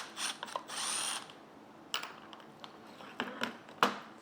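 A ratchet wrench loosens 10 mm bolts from the heat shield on a 1997–2003 E39 BMW 540i during starter replacement, giving several short bursts of close clicking with pauses and sharp metallic taps between.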